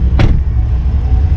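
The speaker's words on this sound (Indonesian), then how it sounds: "mesinnya 2500 5 silinder pakai turbo ya, pakai turbo 5 silinder 2500 cc pakai turbo" A 2010 Audi TT RS with a 2.5-litre turbocharged five-cylinder engine gives a deep, loud, steady low rumble, with a brief sharper burst near the start.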